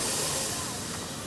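A restored steam locomotive, a film-star engine, hissing with a steady, loud, broadband rush of steam that holds evenly throughout and fades slightly near the end.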